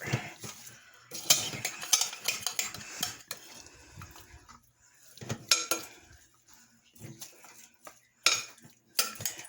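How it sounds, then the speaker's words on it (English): Vegetables stirred in a pot with a metal utensil, irregular scraping and clanking bursts against the pot with brief pauses between, close and clear, with a faint sizzle underneath and no talk. "Give it a little stir."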